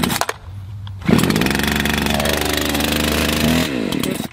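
A new Husqvarna 543 XP chainsaw is quiet for a second, then fires up with a loud buzzing roar that holds steady, shifts pitch, and briefly drops before revving again near the end.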